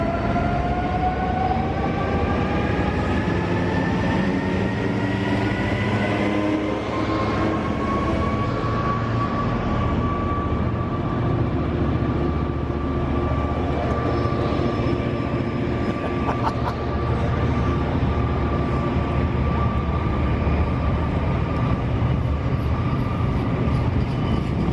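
A double-headed train, two locomotives hauling a freight working, passes close by with a loud, sustained roar and drone, a steady horn-like tonal whine sliding slowly in pitch, and a brief squeal near the end.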